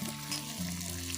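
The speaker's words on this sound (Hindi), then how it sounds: "तो इसमें हम डाल दिए हैं प्याज" Onions hiss and sizzle as they drop into hot spiced oil for a tadka in a village kitchen in Uttar Pradesh, a soft, steady frying crackle heard close and without talk.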